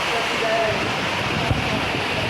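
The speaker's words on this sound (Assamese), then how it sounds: "পূৰা বৰষুণ দি আছে" Heavy rain pours in a hilly river area with a helipad nearby, a dense, steady roar of hiss that holds unbroken and close for the whole stretch.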